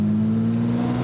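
A Lamborghini Murciélago pulls away, its engine giving a steady, loud tonal drone that holds level for about a second with no talking over it.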